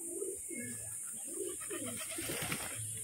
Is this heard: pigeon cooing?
yes